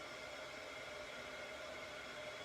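A heat gun used as an embossing tool blows with a steady, even whoosh and whir that holds constant throughout, fairly faint and with no talking.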